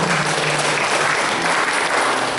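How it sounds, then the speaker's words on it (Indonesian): An audience at a community interfaith harmony gathering in Baleharjo, Wonosari claps together. The applause is dense, steady and sustained throughout, with no voices over it. "Monggo sekali lagi kita tepuk tangan untuk kita bersama."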